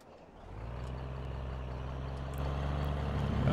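The engine of a Kenworth truck in the video game Farming Simulator 17 idles with a low, steady rumble that grows slightly louder and fuller as it revs up, with no talking.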